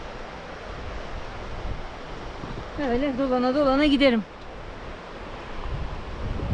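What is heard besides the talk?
waterfall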